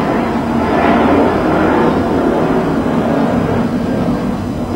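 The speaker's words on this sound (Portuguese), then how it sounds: "Agora vai aqui passar um avião." An airplane passing overhead, a loud, steady broadband roar that swells and holds for several seconds, with no talking over it.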